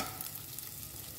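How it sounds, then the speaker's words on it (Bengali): Lentils and curry leaves fry in hot oil for poha, giving a steady close sizzle with faint stirring scrapes throughout, no voices. "ডালটা আর কারি পাতাটা মোটামুটি আমাদের ভাজা হয়ে এসছে"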